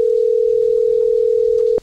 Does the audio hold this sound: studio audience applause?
no